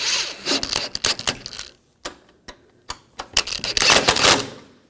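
A ratchet snugs down bolts on the radiator and condenser fan assembly of a 2004–2009 Audi A4. Rapid clicking bursts come close-up, broken by short pauses between strokes, with no talking.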